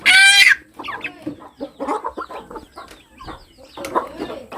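Hens cluck and murmur close by in scattered bursts, opening with a loud shrill squawk, with soft rustling between the calls.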